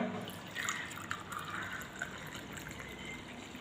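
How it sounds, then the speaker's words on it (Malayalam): A homemade herbal health drink is poured into a glass, giving a soft, close trickle and splashing that runs quietly for a few seconds. "നമ്മളിത് ഒരു ഗ്ലാസ്സിലോട്ട് ഒഴിക്കാൻ പോവുകയാണേ"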